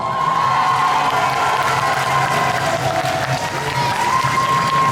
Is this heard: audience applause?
yes